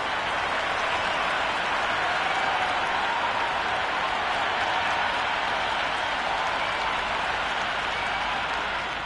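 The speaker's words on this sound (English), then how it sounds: "The crowd are making a heck of a lot of noise even before the first ball's been bowled" Steady roar of a cricket crowd in the video game Cricket 26 fills a stadium at Carrara Stadium, Gold Coast, before the first ball of an Australia vs India T20, loud and continuous with no pauses.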